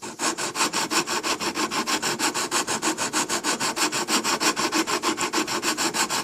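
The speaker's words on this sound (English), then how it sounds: "this should slide pretty easily on this waxed surface right here" A Dura-GRIT TruSander carbide sanding block rubs back and forth across a smooth waxed surface in a steady, quick rasping rhythm, close and clear, with no talking.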